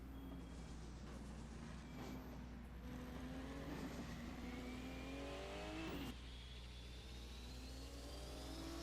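A Porsche 935 race car roars along the front straightaway at a 1978 German racing championship round, a loud sustained engine note rising in pitch as it passes, with further car noise in the background.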